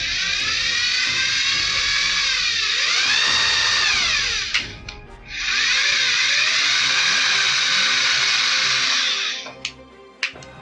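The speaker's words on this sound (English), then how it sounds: "And then I'm going to take my drill bit and at least go through here" A power drill whines loudly in two long bursts while drilling through wood on a Han Solo blaster prop, with a short pause between them and a brief clatter afterward.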